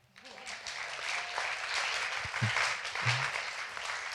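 Audience applauding at a Sunday gathering, a soft, steady patter of clapping from a moderate distance that builds quickly and holds for a few seconds.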